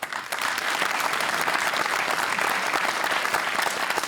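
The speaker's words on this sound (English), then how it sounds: "Give yourselves a clap as well" Studio audience applauding at a televised Q+A panel discussion show, a dense, steady wash of clapping that stays loud and even throughout, with no talking over it.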